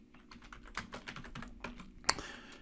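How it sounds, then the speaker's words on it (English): Quick, uneven keystrokes on a computer keyboard, close and fairly quiet, with one sharper clack near the end while a business card's name and details are typed. "So you're going to just type out your name, business name,"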